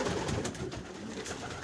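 Soft, low pigeon cooing repeats a few times against a rustling background, close by and fairly quiet; no voices.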